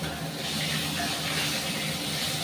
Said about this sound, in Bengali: দেখো একটু পাঁচফোড়ন দিয়ে দিলাম সম্বার